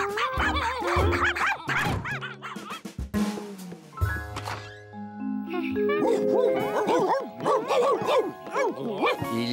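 Several cartoon dogs at a dog show bark, yip and whimper in a busy overlapping jumble, close and lively, mixed with bright musical sounds and chimes.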